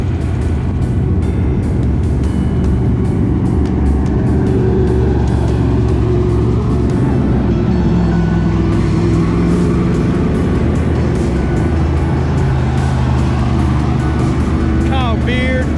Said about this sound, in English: like that 86 car you just saw drive by, the red and yellow car